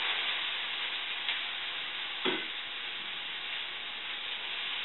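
Corn, broccoli and mushrooms frying in a pan, a soft steady sizzle with a brief clatter of a utensil stirring, quiet and close.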